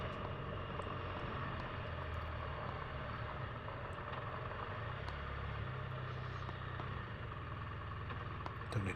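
Vehicle engine drones steadily on a country road near Lumby, a continuous close hum that holds level throughout, with no talk over it.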